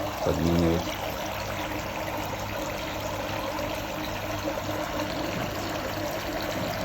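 Steady splashing of water being poured into an aquarium for ray fish, a continuous broadband rush lasting the whole time, with a brief tonal hum near the start.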